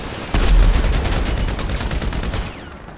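Automatic gunfire in a GTA 5 deathmatch, a rapid burst of about a dozen close, loud shots in steady rhythm, starting abruptly and trailing off into a fading echo.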